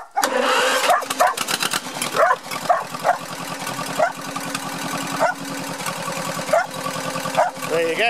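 A dog barks repeatedly and excitedly over a steadily running engine, sharp yelps recurring every second or so close to the microphone.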